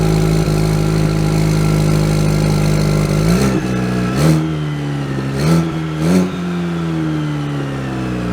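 A 2023 Chevy Silverado with the 2.7 engine idles loudly, then pulls away with several rising revs and gear changes before settling into a steady drone.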